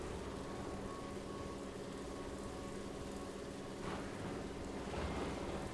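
Rolling ocean waves in the video game Ship Simulator Maritime Search and Rescue, a steady broadband wash of surf and wind that swells slightly louder near the end, with no voices.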